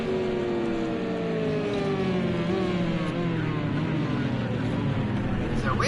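Aston Martin race car engines at full throttle during a Verizon WEC sports car race in Texas, a steady, loud, sustained engine note with rising and falling harmonic pitch sweeps and a commentator talking over it.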